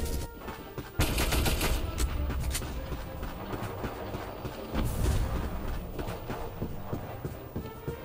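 MP7A1 submachine gun fire in the shooter Black Squad comes in loud, rapid bursts, one near the start and another around the middle, over a continuous bed of game noise.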